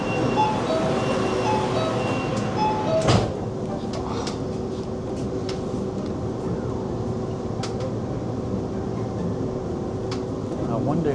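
Steady low rumble and hum inside a moving metro train's business class section in Shenzhen, China, with occasional clicks and knocks and a voice speaking now and then over the noise.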